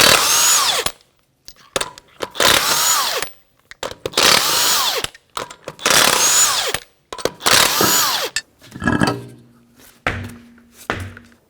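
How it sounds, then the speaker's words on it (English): Impact wrench with a 21mm socket removing wheel lug nuts on a 1992-1996 Toyota Camry, five loud rattling bursts separated by brief silences, followed by metallic clinks as the nuts come free. "21mm socket, we're going to remove the tire."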